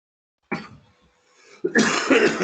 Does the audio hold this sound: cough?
yes